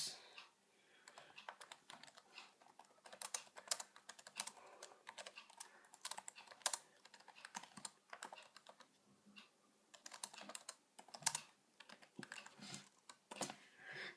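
Rapid, irregular clicking of keys on a Mid 2010 MacBook keyboard, close and fairly quiet, running steadily for the whole stretch with brief pauses and no one talking.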